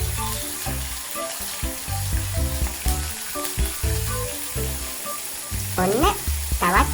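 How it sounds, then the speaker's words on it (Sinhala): Dried sprats sizzle and crackle steadily in hot oil in a Sri Lankan home kitchen, a continuous loud frying hiss with occasional stirring clinks and scrapes, heard alone. "දැන් තෙල් ටික හොඳින් රත් වෙනකොට හාල් මැස්සන් කරවල ටික අපි මේකට එකතු කරගමු"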